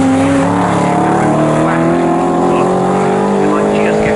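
An orange Porsche race car in a GT Cup Championship race is heard as a loud, close, sustained engine drone with rising harmonic tones on track. A commentator talks over it.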